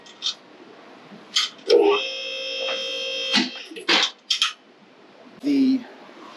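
A vehicle lift raising an axle from jack stands in a garage: a steady electric motor hum and whine running for about two seconds, with clicks and brief talk around it.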